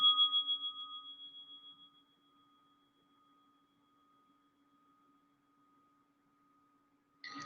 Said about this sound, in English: And feel the vibration of that bell.